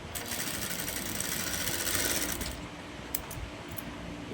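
A sewing machine runs steadily, stitching magzi trim onto a child's kaftan, with a dense mechanical whir that swells toward the middle, then drops to a softer hum broken by a few small clicks near the end.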